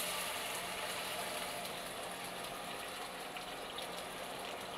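Water is poured into a pan holding ghee and sugar for suji halwa, making a steady, even gush that fills the whole stretch with no voices.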